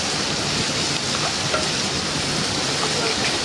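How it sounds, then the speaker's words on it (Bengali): Chopped onions fry in hot oil in a pan, giving a loud, dense, continuous sizzling hiss heard close up and unbroken throughout, with no speech. "কিছু কুচনো পেঁয়াজ, এটা ভালো করে ভেজে নেব।"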